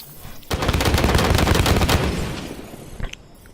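A custom battle rifle with no scope fires a dense, rapid volley in Halo 5, loud and close, lasting about two seconds before fading, followed by a single sharp click.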